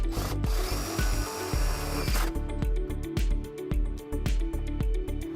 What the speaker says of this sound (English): we're going to take our provided self-tapping screw to ground our white wire